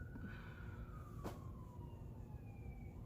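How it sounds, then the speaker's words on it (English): An ambulance siren wails at a distance with a slow, falling tone, faint under a steady low rumble of outdoor background. "there's always someone dying where I live, because there's always an ambulance"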